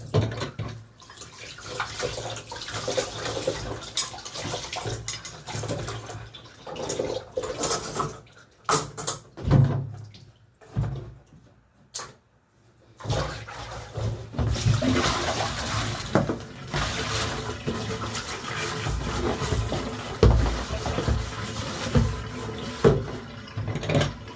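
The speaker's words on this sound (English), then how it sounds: "so you have to clean up the vessel and take it, wash up the vessel." Water runs steadily as a cooking vessel is washed in a Jamaican home kitchen, a continuous splashing flow with brief pauses and uneven surges, close by and moderately loud, with no talking.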